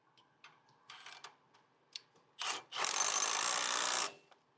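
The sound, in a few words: half-inch drive ratchet clicking on brakes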